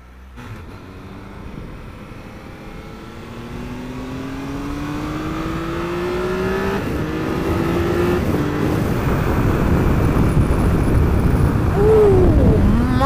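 A Triumph Tiger 1200 Alpine Edition motorcycle engine revs up through rising gears, its tone climbing steadily and growing louder over about thirteen seconds as the bike accelerates hard, with wind noise building underneath.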